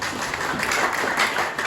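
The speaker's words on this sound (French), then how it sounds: "On nous applaudit encore." A church congregation applauds after a sermon, a soft, continuous patter of many hands clapping at a moderate distance for a couple of seconds.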